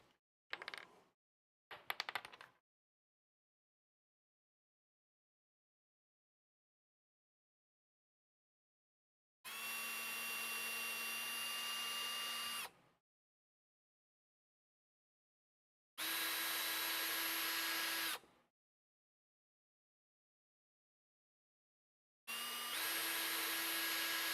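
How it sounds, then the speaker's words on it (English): A few short bursts of a high-pitched power drill whirring, drilling out plastic model kit parts, separated by silence, close by. "Go ahead and drill these out."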